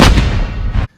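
A Ramon Chavez Rendicion 229 Ultramar folding knife with a chisel-ground blade flicks open in one loud, sharp, near burst that rings briefly before cutting off into silence.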